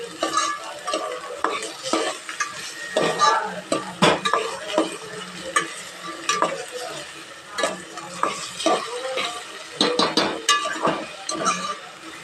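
A spoon stirs garlic-ginger paste through hot oil in a pan at a home Gujarati kitchen, with steady scraping strokes over a continuous close sizzle and occasional clinks against the metal.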